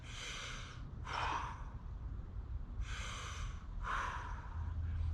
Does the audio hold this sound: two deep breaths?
yes